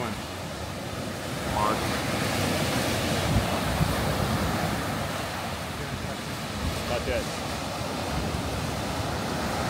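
Ocean surf rolling onto a beach at Bimini in the Bahamas, a steady broad wash of breaking waves with wind buffeting the microphone, while people chat nearby over the constant roar.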